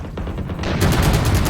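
Rapid bursts of gunfire from the video game Valorant during a competitive esports match, loud repeated shots that intensify and sharpen partway through the short stretch.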